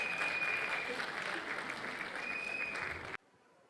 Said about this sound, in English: Give him a big round of applause, parents.